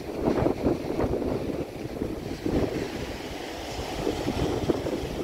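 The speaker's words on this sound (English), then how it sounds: "Probably going to have to fight the wind a little bit here because it is a little breezy over here" Steady wind gusting across a breezy beach near surf, buffeting the microphone in rough, rolling surges that rise and fall over several seconds, with no voices.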